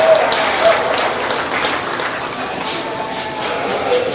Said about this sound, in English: let's give those 3 a big round of applause as they exit the ring